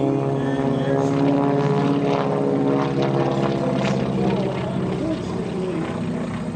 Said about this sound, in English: Otherwise, he'd be looping this airplane all over the sky.